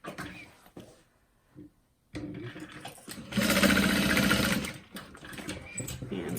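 Sewing machine stitching a tote bag to baste it in place, with short bursts at first, then a loud, close, steady whir for about two seconds before slowing into lighter running.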